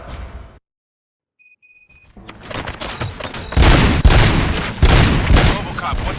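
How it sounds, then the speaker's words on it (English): Gunfire from RoboCop: Rogue City, a dense fusillade of loud close shots and booms following a brief silence and short electronic beeps, swelling into sustained heavy bursts. "Gunshots? What's going on?"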